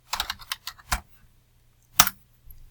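Fingers type a name on a computer keyboard, giving a short burst of close, crisp key clicks, then a pause, then two more isolated taps.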